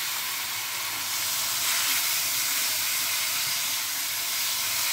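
Pineapple pieces are stirred into ghee and semolina with dry fruit in a pan for pineapple halwa. They give a continuous, close, fairly loud sizzling hiss that holds steady throughout.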